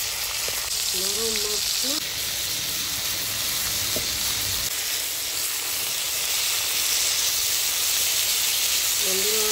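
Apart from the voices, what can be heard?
pomfret fish frying in a pan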